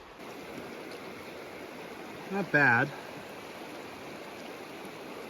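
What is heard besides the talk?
flowing stream water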